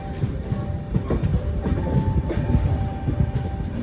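The Mysore–Jaipur superfast train pulls out of Nagpur Junction, heard from on board as a steady rumble with rhythmic clickety-clack of wheels over rail joints and faint squeals.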